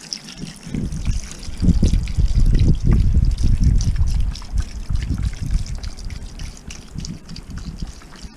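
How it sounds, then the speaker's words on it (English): Bone broth or stock pours into a pot of goulash in a steady, close, gurgling stream that lasts about eight seconds, with no voices. "So normally you add about 5 litres of bone broth or stock."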